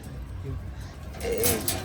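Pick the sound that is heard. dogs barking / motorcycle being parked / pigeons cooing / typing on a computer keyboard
pigeons cooing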